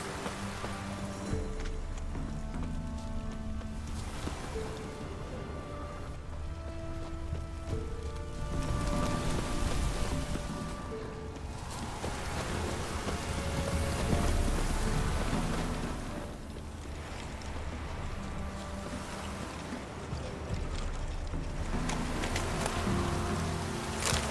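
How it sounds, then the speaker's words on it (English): Steady rain patters across a surface in the game The Witcher 3, with a soft musical score underneath and occasional muffled thuds like hooves or footsteps. "Looks like rain."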